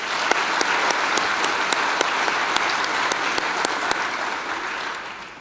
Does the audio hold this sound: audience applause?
yes